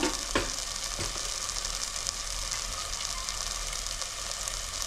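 Potatoes fry in hot oil in a pan with salt, chilli powder and turmeric, a steady close sizzle with a couple of sharp scrapes early on.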